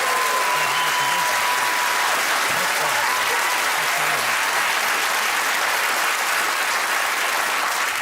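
Studio audience at a British comedy panel show bursts into loud, sustained applause and cheering that fills the whole stretch without a break.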